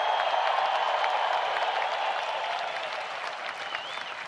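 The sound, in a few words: crowd cheering and applauding at Hall of Fame enshrinement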